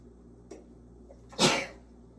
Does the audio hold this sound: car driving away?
no